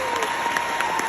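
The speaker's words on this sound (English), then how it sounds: "Come on there, y'all gotta give a round of applause." A commencement crowd applauds, with dense clapping from the audience that fills the whole short stretch, loud and continuous, along with faint cheering.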